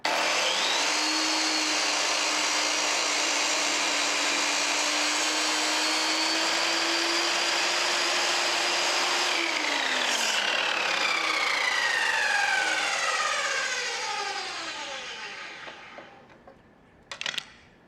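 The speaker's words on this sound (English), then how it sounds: "what I'm sanding down is the back bottom corner that fits into the backside angle iron" A power sander grinding steadily along the back bottom corner of a big block of wood for a shelf, loud and continuous, then winding down with a falling whine and ending in a few short clatters.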